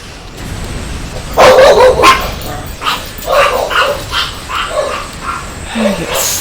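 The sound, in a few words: dogs barking in a video game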